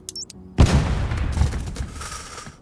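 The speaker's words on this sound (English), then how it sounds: "What if we... Small bomb it. Just a little wee small bomb." A small bomb blows up in the puzzle game Cefore, a short tone sounding before one loud boom that tails off into rumbling debris and crackle over about two seconds.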